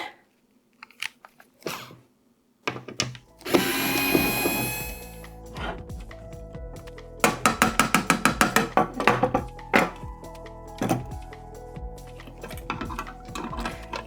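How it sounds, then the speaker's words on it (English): Power screwdriver backing screws out of a piece of curb-found wooden furniture: a loud whirring motor burst, then rapid rattling ratchet-like pulses and clattering knocks, close by and with no talking. "I have a power screwdriver. Why am I not using that?"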